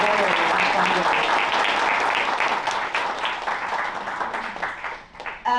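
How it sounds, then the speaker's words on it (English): Demo day audience at Blackstone giving a round of applause for supporters, steady dense clapping from a crowd that slowly tapers off over several seconds. "Why don't we give a round of applause for our supporters."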